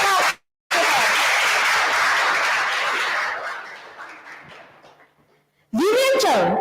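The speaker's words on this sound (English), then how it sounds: "Please give a big round of applause." Audience applause at a youth public speaking competition grand final, welcoming a contestant to the stage: a dense, steady burst of clapping that swells and then fades out, with a voice speaking briefly at the very end.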